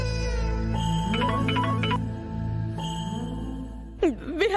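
A melodic phone ringtone plays steadily for an incoming call, a repeating tune of bright tones over a sustained backing, with a rising electronic flourish near the end and no talking.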